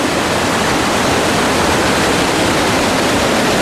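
Loud, continuous rushing roar of a waterfall beside the Pambatti Siddhar cave in the Kolli Hills, a dense broadband wash of falling water that stays steady and close with no talking.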